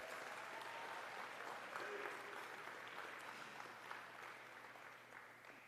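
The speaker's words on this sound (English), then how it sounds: "Everyone, let's thank Elijah and Donnie one more time with another round of applause." A banquet crowd at a high school athletics awards dinner gives a sustained round of applause, a thick, even roar of many hands clapping at moderate distance for nearly six seconds with no voices standing out.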